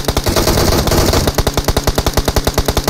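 Automatic gunfire in PUBG Mobile rattles out in rapid, evenly spaced bursts, loud and close, with a denser stretch of shots at first followed by a steady run of distinct cracks.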